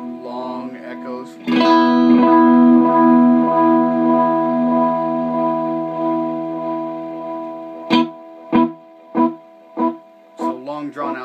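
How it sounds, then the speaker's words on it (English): A held guitar note runs through a homemade delay pedal, its long echoes sustaining and breaking into distortion, followed by a string of shorter plucked notes repeating with echo. "So long drawn out sounds will end up distorting at long delay times."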